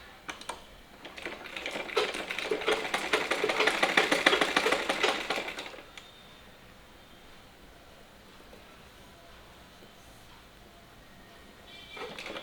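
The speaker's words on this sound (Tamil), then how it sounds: "இது ஃபுல்லாக கீழே மடித்து தைச்சிக்க போகிறோம்" A sewing machine stitches the folded hem of an inskirt in one steady, rapid mechanical run lasting a few seconds, then stops, leaving quiet room tone and a faint restart at the end.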